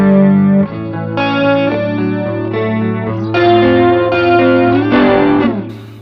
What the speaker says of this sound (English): you can kind of get some chorusy sounds instead